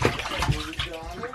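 Water sloshing in a bathtub at bedtime, soft splashes and movement close by, with voices talking over it.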